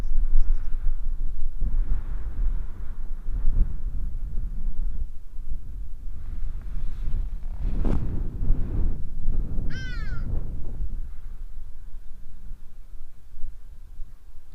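A hadeda ibis gives a short burst of loud, harsh calls partway through, heard over steady wind rumble outdoors.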